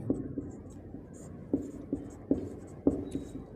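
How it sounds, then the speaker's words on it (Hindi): A pen writes on paper while solving a class 10 maths equation, making soft scratching strokes with periodic light taps, close and fairly quiet against a low background hum. "तो यहाँ लिखते हैं"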